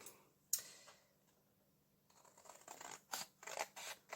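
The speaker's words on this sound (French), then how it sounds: "on va venir couper ici le pli qui se trouve ici et le pli qui se trouve" Scissors snip through a folded paper fold with a sharp cut, then a quiet pause, then a run of crisp close snips and rustling paper, all without talk.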